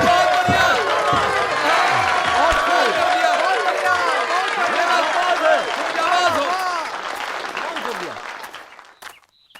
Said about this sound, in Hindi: जाबाज महमद के लिए तालियां